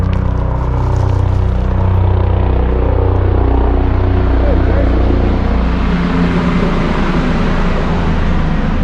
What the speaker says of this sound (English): helicopter overhead